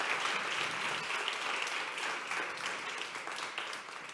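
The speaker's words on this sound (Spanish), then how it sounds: "os pido un aplauso enorme para la doctora María de la Calle" An audience claps for a woman doctor at an atopic dermatitis awareness event, the applause dense and continuous before gradually thinning toward the end.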